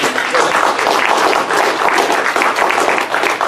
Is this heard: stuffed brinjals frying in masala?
no